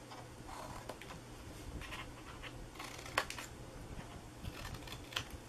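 Scissors snipping through paper to shape the inside flaps of a Christmas mailbox treat box, a few quiet close cuts and rustles over a steady low hum.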